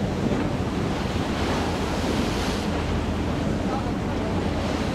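Sea waves and surf on the Barents Sea rush and wash steadily around a small boat on a whale-watching trip off Norway, with heavy wind buffeting the microphone throughout.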